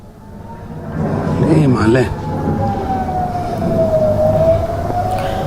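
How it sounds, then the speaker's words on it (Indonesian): An air raid warning siren in Eilat, Israel, during an Iranian attack, wailing, rising and holding a long steady tone, loud and sustained, with a brief burst of voices and commotion early on. "sirene peringatan serangan Iran berbunyi tanpa henti di kota Eilat, Israel"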